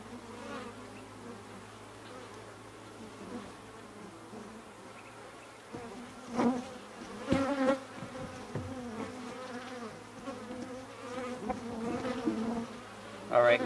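Honey bees swarm around an open horizontal hive, making a steady low buzzing drone close by. Louder swells of buzzing come and go as insects pass near, with faint handling noises in the background.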